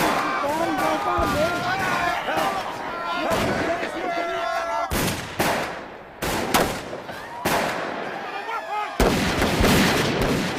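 Gunfire during the Bloody Sunday shooting: a series of loud, sharp cracks and bursts, some close and some echoing, mixed with frantic shouting voices throughout.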